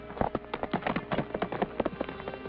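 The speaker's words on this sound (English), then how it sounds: "She's riding away on Larrabee's horse." A horse galloping away with a rider, hooves beating in a quick, steady clatter of thuds on the ground for a few seconds, with no talk.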